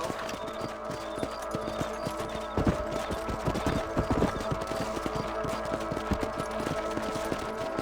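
Horses' hooves clip-clopping in a rhythmic gait while riding in the Red Dead Redemption video game, steady and moderately loud throughout, with a few sharper thuds mixed in and a faint background hum beneath.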